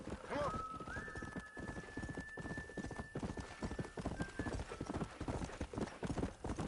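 Rapid, steady horse hoofbeats clip-clop at close range in the video game Red Dead Redemption, a galloping rhythm running throughout, with a brief whinny near the start and a thin sustained tone above.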